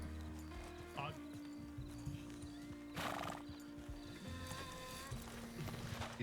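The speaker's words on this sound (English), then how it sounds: "That's my horse." A horse named Gilly clip-clops and whinnies in the video game WildRP, with steady hoofbeats under overlapping conversation and a sharp neigh cutting through near the middle.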